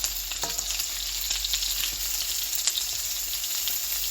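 Ground chicken burgers frying in olive oil in a pan at about 330–340 degrees, a steady close sizzle with scattered sharp pops and crackles, heard alone without talk.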